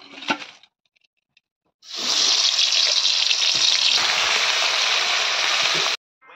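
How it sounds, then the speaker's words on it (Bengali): Salted fish drops into hot oil in a pan, setting off a loud, bright, continuous sizzle that runs for about four seconds and then cuts off abruptly, after a few soft clicks. "মাছটা হলো ভাজবো।"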